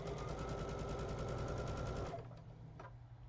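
A sewing machine stitches quilt strips together in a fast, even chatter, up close, then stops abruptly, leaving a few faint clicks and handling sounds.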